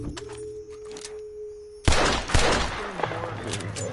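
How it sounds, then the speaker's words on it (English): Sharp gunshots in the video game Red Dead Redemption 2, with a loud crack followed by further bursts and a scattered echoing tail, after a steady electronic tone that breaks off abruptly. "Can we have one day without gunfire?"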